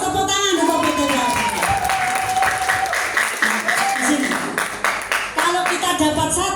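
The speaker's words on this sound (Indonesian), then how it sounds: "Tepuk tangan untuk PTBS." Applause from a seminar audience at a sharia business event holds steady across the room as dense clapping, while a voice talks over it and the claps thin toward the end.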